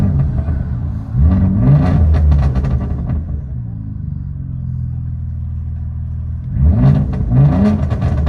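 A 2001 Audi S4 with a 2.7L V6, no catalytic converters and a straight-pipe exhaust revs hard in two loud, close bursts, dropping between them to a lower, rumbling steady drone.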